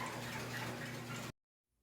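Hot tap water gushes steadily into a plastic bag holding a pair of sneakers, a loud, even splashing pour that runs for just over a second and then cuts off abruptly to silence.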